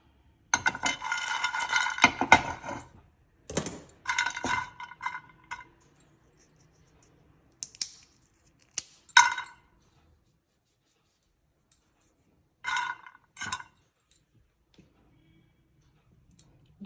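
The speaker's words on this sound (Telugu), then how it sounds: "మిక్సీ కోసం నేను కొన్ని మెత్తగా అవుతాని కోసం ఇట్లా కొట్టేసుకుంటున్నానండి" Whole spices for chicken pickle are pounded by hand in bursts of sharp, clattering knocks, a dense cluster at first and then shorter separated groups with quiet gaps between them.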